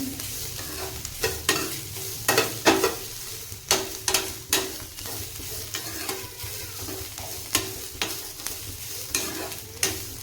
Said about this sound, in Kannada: ಈ ಥರ ಹುರ್ಕೊಳ್ರಿ. ಇದು ಇನ್ನೂ ಒಂದು 5 ನಿಮಿಷ ಹಿಂಗೆ ಹುರ್ಕೊಳ್ಳೋಣ್ರಿ.